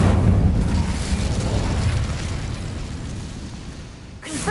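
An Incendio fire spell from Hogwarts Legacy roars as a sustained, loud rushing burst that slowly thins over several seconds, then ends with a short fresh flare.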